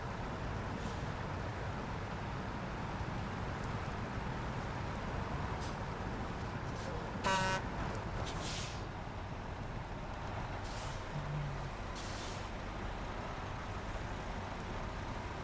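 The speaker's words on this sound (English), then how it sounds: "Trucks, trucks, and more trucks." Trucks drive in the video game SnowRunner, giving a continuous, even engine rumble and road noise throughout, with a few faint higher clanks. No one talks.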